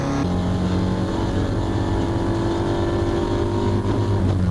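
Seat Leon race car heard from the onboard cockpit on a hillclimb course, its engine droning loudly and steadily throughout with a brief shift in pitch near the end, no talk.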